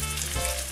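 Sirloin steaks hitting a hot pan and sizzling, a short, steady bright frying hiss heard close and alone.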